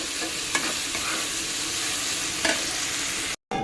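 Egg frying with potato and onion in a pan for homemade chow mein gives a steady, close sizzle, with a few sharp stir clicks from a utensil and a brief dropout near the end.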